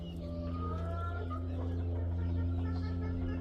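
A black hen clucks steadily in a garden, close and fairly loud, with a continuous low hum beneath.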